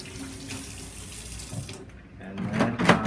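Running water from a sink faucet splashes steadily over hands being rinsed during a handwashing demonstration, close and fairly loud, the stream briefly quieting before swelling again with more splashing.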